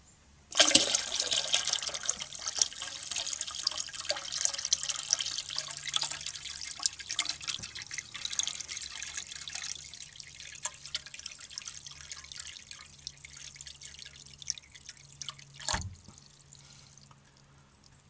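Water pours from a gallon jug into the tank of a 1954 Eljer Waco toilet, a continuous splashing, gurgling stream that begins abruptly and runs for over fifteen seconds, close by, ending with a brief clunk and a trickle.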